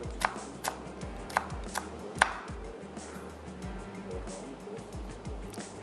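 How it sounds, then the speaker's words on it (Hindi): A knife chops mushrooms into cubes on a cutting board with a handful of sharp, distinct thuds at uneven intervals, the strongest near the middle, followed by quieter knife noises and kitchen ambience. "मशरूम्स को भी क्यूब्स कर लेते हैं।"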